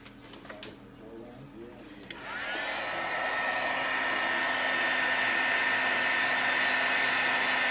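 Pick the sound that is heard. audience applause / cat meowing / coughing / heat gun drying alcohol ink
heat gun drying alcohol ink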